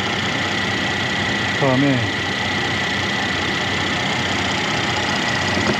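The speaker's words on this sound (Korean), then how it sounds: "시동을 한번 걸어보겠습니다." A 2015 Mercedes-Benz W212 E400 4Matic idles with a steady, even hum. A short voice cuts in over it near the start.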